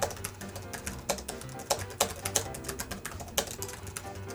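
Rapid clicking keystrokes on a retro Toshiba Satellite 1905-S301 laptop keyboard, irregular bursts of taps at close range with no voices.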